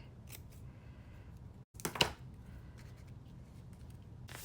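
Scissors snip patterned paper into a small flag shape during an ink-crafting session, a single crisp cut standing out near the middle over a soft, steady background hiss.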